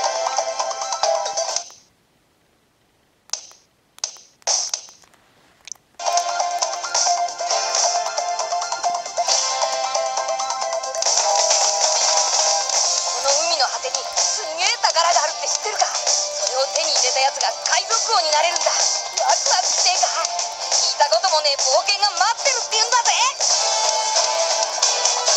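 Excitebike game sounds played on a Nintendo 3DS, a bright electronic buzzing engine tone with warbling pitch, sustained and loud after a few short bursts and a brief gap at the start.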